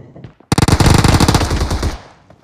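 A burst of rapid, loud gunfire in the video game Squad Rush, roughly a second and a half of close automatic shots with a short tail, and no talk over it.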